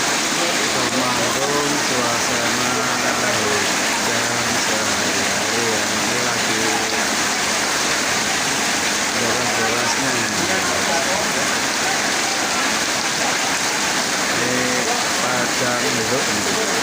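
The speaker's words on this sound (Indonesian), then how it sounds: "Temanggung suasana hujan sehari-hari ya" Steady rain pours down in Temanggung, a dense, constant hiss of drops on surfaces that stays loud and close throughout, with voices faintly underneath.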